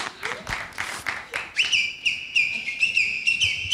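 A person whistles a sustained, high, steady tone with brief wavers, following a stretch of fainter chirpy whistles and a few claps or knocks, all fairly close and loud in a studio setting.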